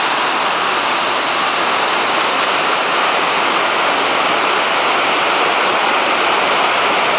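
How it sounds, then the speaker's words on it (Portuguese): Cachoeira dos Padres waterfall in Marmelópolis, Minas Gerais, a powerful, high-volume cascade that makes a loud, steady, close roar of rushing water with no break. "Olha a força da água, o volume de água."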